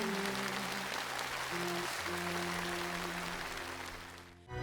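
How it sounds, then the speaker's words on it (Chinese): A studio audience at a televised singing competition cheers and applauds two singers, making a dense, sustained roar over backing music that dips toward the end. "再次欢呼声送给2位"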